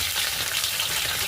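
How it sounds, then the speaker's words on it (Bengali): Okra and potatoes fry in hot mustard oil, a steady, even sizzle that stays unbroken and moderately loud for a brief moment, with no voices over it. "সরষা তেল গরম হয়ে গেলে দিয়ে দেবো ভেন্ডি আর আলু।"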